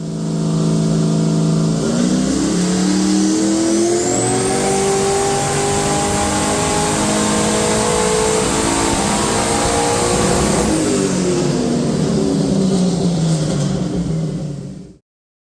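Engine of a Ford XG Ute on a dyno with the boost controller turned up, revving loud and close as pitch climbs steadily through the gears, then falling away and cutting off sharply.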